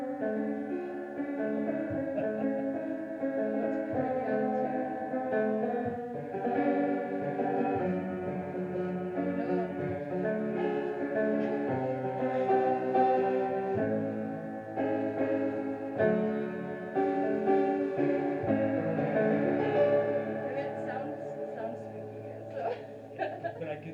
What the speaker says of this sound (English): so this is like the really old baby grand piano. It's apparently really out of tune.